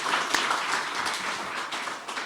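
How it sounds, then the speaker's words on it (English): An audience claps for Zena and her team at a university announcement event, giving brief, moderately loud scattered applause with clustered hand claps. "How about a round of applause for Zena and her team for their effort that"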